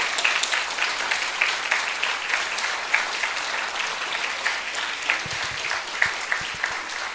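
Church congregation breaks into applause during a service installing new deacons, a moderate, steady patter of many hands with scattered sharper claps, heard without talk.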